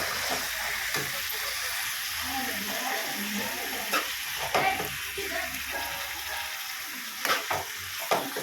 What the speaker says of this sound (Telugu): పెద్ద మంట పెట్టేసి ఒకసారి అంతా కలుపుకుందాము.